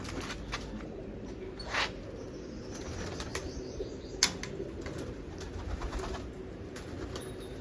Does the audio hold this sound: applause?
no